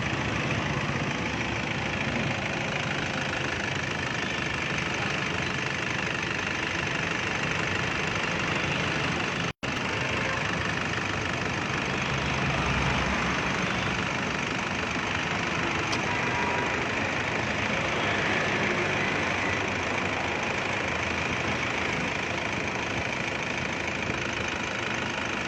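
A Toyota Innova engine idles after a carbon-cleaning injection, a steady close mechanical hum with a faint ticking knock that runs evenly throughout, broken once by a brief cut, with no talk.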